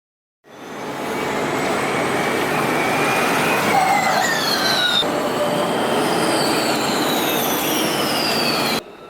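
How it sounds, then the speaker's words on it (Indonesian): At corners five and six of the Jakarta street circuit, Formula E electric race cars sweep past as a loud continuous whine and road rush, with rising and falling pitched tones as the cars come through. "Seru banget ngelihat mobil-mobil ini melintas di tikungan ke-5 dan ke-6"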